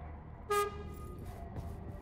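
A train horn sounds once in the Voidtrain video game, a short, loud, tonal toot that stands out briefly over a low rumbling background before fading, with faint quieter sounds afterward.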